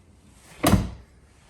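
A single Maserati Ghibli car door opening, a short close thud-like clunk and latch sound in an otherwise quiet setting.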